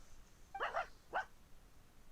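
A dog in a video game gives two quick barks, close and fairly clear, then a brief pause with a faint sound at the end.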